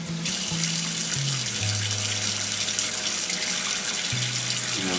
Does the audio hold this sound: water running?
yes